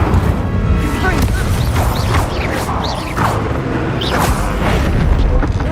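Incendio fire spells cast repeatedly in Hogwarts Legacy, a dense roaring burst of flame with booming, crackling impacts that swell and pulse over several seconds, loud and continuous beneath game voices.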